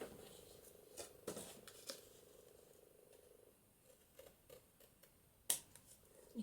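Scissors snip paper while trimming an extra journaling page for a papercraft journal, giving a few soft, quiet cuts spaced through a hushed room.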